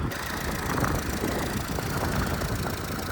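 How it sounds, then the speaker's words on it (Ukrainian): A used car, about six years old, idles at the Lutsk car market with its hood open, giving a steady, even engine drone at moderate level throughout, with no talk. "Мотор працює нормально"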